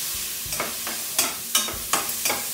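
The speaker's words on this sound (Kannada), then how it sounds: "ಫ್ರೈ ಮಾಡ್ತಾ ಇದ್ದೀನಿ" Onions frying with salt in a pan while being stirred: a steady sizzle broken by about six regular scraping sweeps of the spoon, close and fairly loud, with no voices.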